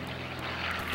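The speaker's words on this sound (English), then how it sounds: "Planes are taking off." Propeller aircraft taking off at a July 4th air show in Estherville, Iowa, a steady broad engine drone heard from a distance in open air, filling the whole second without any voices.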